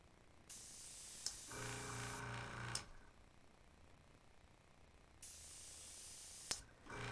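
An airbrush sprays paint onto artwork in two separate steady hissing bursts, each a couple of seconds long, with quiet pauses and small clicks between them.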